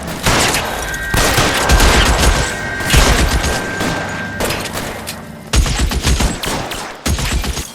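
Gunfire during a shootout in the L.A. Noire video game on PS4, with loud, dense bursts of rapid shots and booming reports nearly nonstop, punctuated by brief pauses, close and intense.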